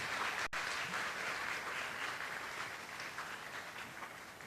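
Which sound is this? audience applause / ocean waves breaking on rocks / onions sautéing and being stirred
audience applause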